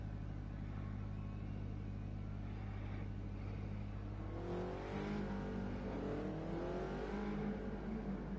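A Toyota GT86 race car in Gran Turismo drives the Dragon Trail Seaside track, its engine droning steadily and then revving higher with rising, sweeping tones, close and continuous.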